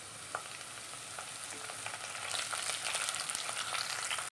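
Dried red chillies, garlic and curry leaves fry in hot oil for a lime pickle. A constant crackling sizzle swells louder partway through and then cuts off abruptly.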